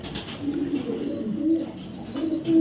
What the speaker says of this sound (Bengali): আসান গ্রিজেল একটা নর কবুতর